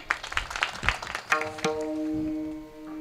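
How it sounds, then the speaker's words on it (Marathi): An audience at a teacher's retirement felicitation ceremony claps in a brief, rhythmic burst that gives way to a sustained tonal drone. "टाळी वाजवा."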